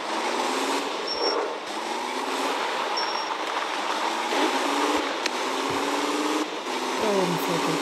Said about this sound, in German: Da oben fährt der Zug.